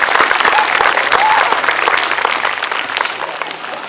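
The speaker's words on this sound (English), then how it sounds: "Please give Brian Barnett and his family a round of applause." Audience applause at a Veterans Day ceremony honoring a veteran and his family, a steady broadband patter of many hands that holds loud for several seconds and then eases slightly toward the end.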